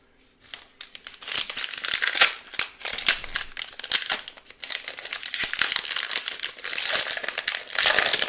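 Foil wrapper of a 2023 Select UFC trading card pack being torn and crinkled open by hand, a steady run of close, sharp crackling and ripping bursts with no talk.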